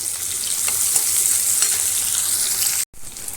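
Potatoes and onions, with chopped tomato and slit green chillies just added, fry in a pan with a loud, steady sizzle and crackle that runs without a break before cutting off abruptly near the end.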